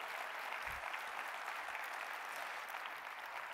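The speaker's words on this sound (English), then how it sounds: "Give her a round of applause for poetry." Round of applause from a conference audience at a pharmacy education general session, even and continuous clapping heard from a distance, fairly faint with no voices over it.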